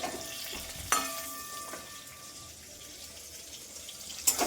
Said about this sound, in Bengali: এখানে আমার আলু ভাজা চলছে সয়াবিনের জন্য